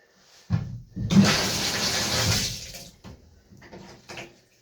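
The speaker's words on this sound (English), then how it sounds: "Now I'm going to go turn the water on." A dripping Delta Monitor shower is turned on after repair, giving a burst of rushing water that holds for about two seconds, followed by a few short knocks and splashes before it falls quiet.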